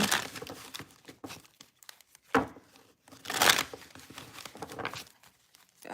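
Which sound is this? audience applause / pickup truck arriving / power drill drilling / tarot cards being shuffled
tarot cards being shuffled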